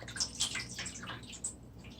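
Water poured into a baking pan around a foil-wrapped cheesecake for an oven water bath, a soft, splashy trickle with a few brighter splashes, close and fairly quiet with no talk.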